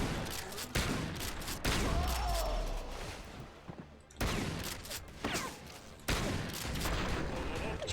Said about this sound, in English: Hit that thing with the shotgun.